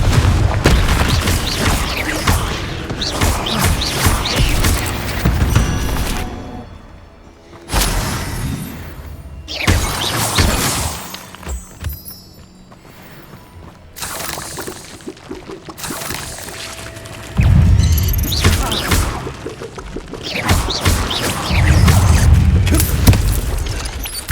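Blasting-spell explosions go off in a loud, dense run during combat in the video game Hogwarts Legacy, with heavy booms and crackling bursts, a few short quieter gaps, then more blasts building again.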